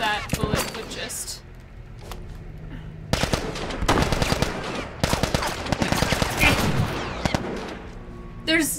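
Gunfire bursts from The Last of Us, a survival action video game, with repeated shots and rapid volleys over a tense game soundscape, punctuated by loud clusters while a player talks intermittently.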